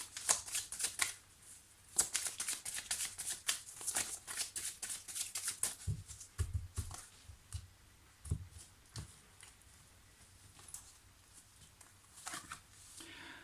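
Lenormand cards are handled and laid down to cover a spread, making soft papery shuffles, slides and taps in irregular bursts close by, with a few low thumps against the table and occasional quiet speech.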